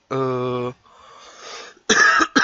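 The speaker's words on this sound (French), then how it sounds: "Excusez-moi, je tousse" A person coughs during casual Minecraft server commentary: one strong harsh cough burst opens, followed by a quieter breathy stretch and two more sharp cough bursts close by and loud.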